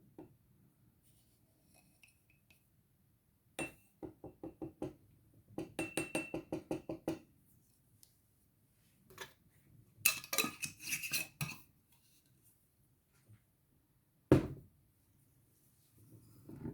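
Black salt spooned into a glass jar: several bursts of scraping, tinkling clinks of a metal teaspoon against glass, close and fairly quiet, separated by pauses, with no talking.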